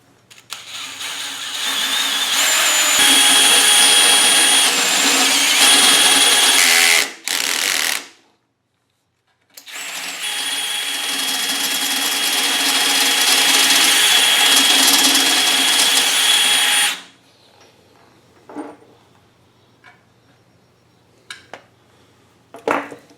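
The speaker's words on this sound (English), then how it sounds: "So let's go ahead and start drilling our hole." A step drill whines steadily through a metal bracket in two long bursts separated by a short pause, loud and close, then fades into quiet with scattered small clicks.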